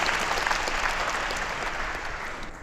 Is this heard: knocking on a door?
no